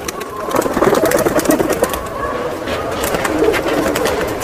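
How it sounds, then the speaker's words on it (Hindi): Border pigeons coo softly in a pet shop in Andheri East, Mumbai, a murmur of several birds under steady room noise. "ये देखो बॉर्डर वाले कबूतर"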